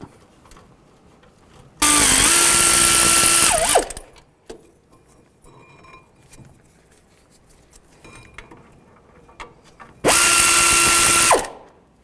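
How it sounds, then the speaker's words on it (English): Two loud bursts of a power tool with a 19mm socket whirring and ratcheting, each about two seconds, loosening brake caliper bracket bolts on a 2005-15 Nissan Xterra, with quiet clinking in between. "Take these two caliper bracket bolts off. Use a 19mm socket."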